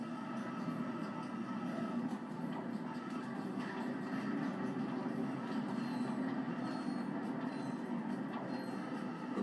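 Trains rumble past continuously in Ratchet & Clank 2, a steady rolling clatter with faint wheel squeal, loud and constant with no talking.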